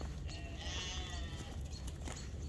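Sheep bleat on a farm on a morning with wool-covered fencing, giving a brief, faint, hoarse bleating over steady outdoor background noise, with no voices.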